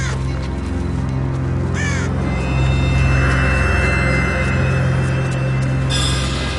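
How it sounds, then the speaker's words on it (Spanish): Crows cawing in Bhutan: several loud, harsh caws repeat close by over a dense, constant outdoor background. "En Bután, el cuervo es la encarnación del dios protector Yesi Gom"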